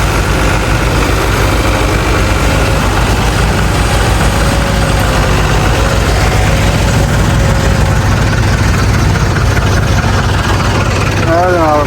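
A New Holland NH 850 tractor engine runs loud and close, a steady low rumbling drone with vibration, with a voice speaking over it.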